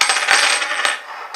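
Two or three coins clinking together in a hand during a close-up magic trick, a few bright metallic chinks and jingles in quick succession, close and clear with no talking.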